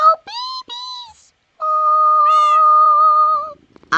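Siamese cat in the Minecraft video game meowing: a few short tonal meows followed by one long, steady, drawn-out meow, loud and close with no talk over it.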